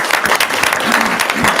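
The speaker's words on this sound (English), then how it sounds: "Can we give them a round of applause too?" An audience applauds at a school board trustees' meeting, with steady, close clapping filling a room and voices mixed in beneath it.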